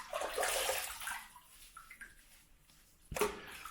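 A Merkur 34c safety razor rinsed under running tap water: a broad rushing splash that is strongest at the start, then fades to a trickle, with a brief burst of water near the end.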